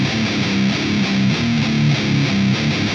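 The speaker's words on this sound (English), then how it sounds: "those heavy palm mute guitars that sounds like a sweet saw gnawing on bones" Heavy palm-muted distorted guitar for pornogrind or slam chugs in a low, tight, rhythmic pattern of choppy repeated notes, loud and dense without pause.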